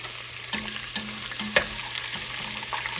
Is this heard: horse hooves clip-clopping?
no